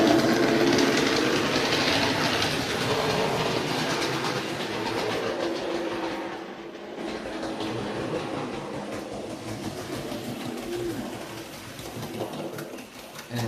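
A model train running on track with an LSWR brake van added at the rear gives a steady rolling rattle with faint rhythmic clicking, continuous and fairly close throughout.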